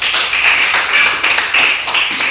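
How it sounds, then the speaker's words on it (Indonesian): A class of children clapping together in a school lesson, a loud, steady patter of many hands lasting a couple of seconds without pause. "tepuk tangan dulu sama si Niska."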